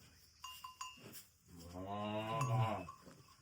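Bulls on a village farm near Amboli: a few soft knocks and clanks, then one long, deep, close moo that swells and fades.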